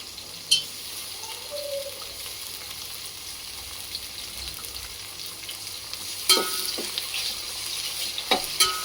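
Tomatoes and onions sauté over high heat in a pan for Hyderabad mutton biryani, with a low, steady frying hiss and a few sharp spatula knocks and scrapes near the start and toward the end.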